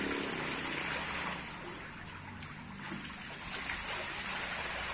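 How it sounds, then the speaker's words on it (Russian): A street fountain runs in the rain, giving a steady broadband rush and splash of falling water that dips slightly in the middle before swelling again. "Фонтан под дождем."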